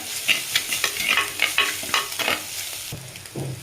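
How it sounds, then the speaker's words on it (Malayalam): Garlic, ginger, onion and curry leaves being stirred and sautéed in oil left from frying fish, with steady sizzling and repeated scraping strokes of a spoon against the pan, close and fairly loud, ending with a softer clatter. "മീൻ വറുത്ത ഈ എണ്ണയിൽ തന്നെ നമുക്ക് വെളുത്തുള്ളി, ഇഞ്ചി, സവോള, കറിവേപ്പില എല്ലാം ഒന്ന് വഴറ്റിയെടുക്കാം"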